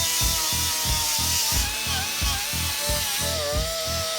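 A power tool whirs continuously as it strips paint off the back of a truck cab, a steady grinding buzz with a pulsing rhythm, close and fairly loud, with no voices.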